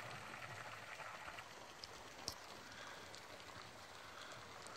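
Steady rain falls on a ranch shelter on an overcast day, a continuous even hiss with no voices.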